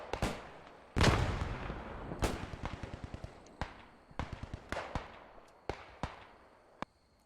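Sharp gunshots and heavy bursts ring out in a video game battle, a loud volley followed by scattered single shots and short rapid strings at varying distances.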